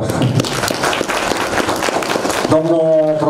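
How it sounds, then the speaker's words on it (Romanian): An audience applauding at a library symposium, with dense, steady clapping from a crowd for most of the span before a voice begins speaking over its tail. "haideți să aplaudăm"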